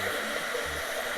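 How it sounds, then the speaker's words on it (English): A hot air gun blows a steady, even rushing hiss at close range while heating heat shrink tubing over a solder joint. "now I am just going to heat that up."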